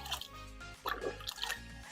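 Aquarium sponge filter squeezed by hand in a container of siphoned tank water, giving wet squishing and dripping sounds that swell in short bursts, close up with no talking.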